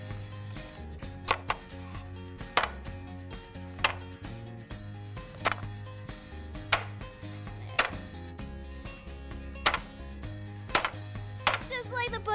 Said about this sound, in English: I'm just gonna finish chopping up the other half of this chicken.